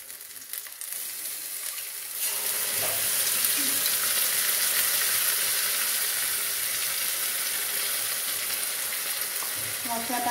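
Spices hit hot oil in a pan and break into a loud, steady sizzle that holds with little change after a quieter opening couple of seconds, with faint stirring clinks now and then.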